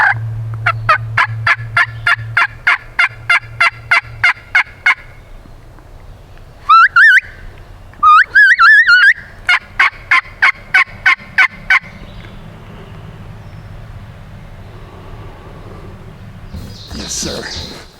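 A wild turkey gobbles during a spring hunt in New York, with a rapid string of sharp calls followed by two bursts of rattling gobbles at mid distance, while hunters talk quietly in the background.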